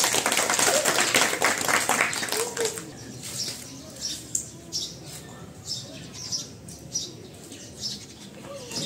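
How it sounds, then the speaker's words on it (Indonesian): Students in a floor gymnastics lesson clap as a group, a loud burst of many hands lasting about two and a half seconds, then dying away into quieter room noise with scattered faint taps. "Oke, bagus, tepuk tangan."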